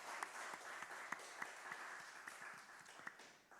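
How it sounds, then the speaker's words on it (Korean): A church congregation at a Sunday worship service claps together in an even, rhythmic beat, the separate claps distinct but soft and distant, fading slightly toward the end. "늘 우리를 축복하신 하나님 앞에 영광의 박수 올려드립시다."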